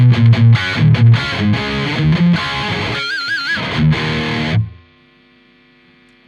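A distorted electric guitar played through a TONEX Bad Boy amp capture chugs out heavy palm-muted riffs and sustained chords, then rings out and decays, leaving a faint hiss before a final hit.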